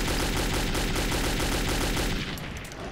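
Loud, dense gunfire from the video game Metro 2033, rapid machine-gun bursts rattling almost continuously before easing off near the end, with no talk over it.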